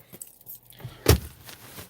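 A set of car keys jangles close by in short metallic rattles, peaking in one sharp clink before settling.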